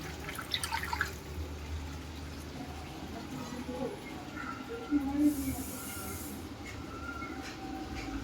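Dirty water drains out of a Whirlpool fully automatic washing machine during tub cleaning, giving a steady trickling, gurgling flow, close and moderate, with occasional clicks and splashes and a voice speaking over it.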